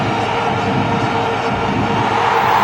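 Stadium crowd at the 2011 Cricket World Cup final between India and Sri Lanka, a loud sustained roar of cheering after a wicket, dense and steady throughout.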